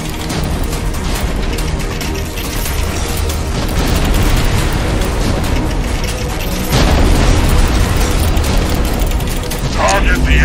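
Heavy cruise missile strikes in the PC game X-Morph: Defense, a dense, loud barrage of booming explosions and mechanical clatter that rolls on continuously, swelling partway through.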